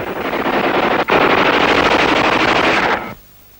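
Machine gun fire on a wartime jungle front line in New Guinea, a loud continuous rapid burst lasting several seconds with a brief break, recorded on old, harsh-sounding film audio.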